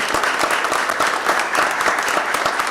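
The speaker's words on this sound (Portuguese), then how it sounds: "Nossos aplausos, nosso reconhecimento." Sustained applause fills a council chamber during an ordinary session, a dense patter of many hands clapping close and loud, with no voices over it.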